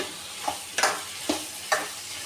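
Vegetables for plantain curry sizzle in a hot pan while a utensil stirs them, with three or four distinct scraping strokes over the steady frying hiss.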